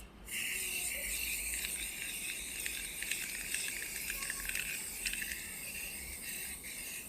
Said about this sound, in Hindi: बाकी व्हील कवर्स को भी स्प्रे पेंट कर देते हैं